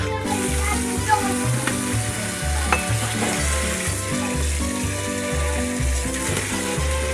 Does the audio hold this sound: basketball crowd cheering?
no